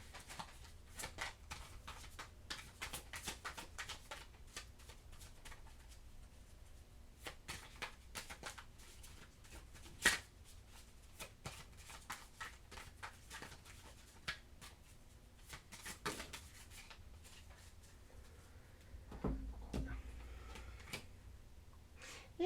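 Tarot cards are shuffled and drawn by hand, producing soft papery riffles, slides and scattered close taps with a few sharper snaps, with no talking.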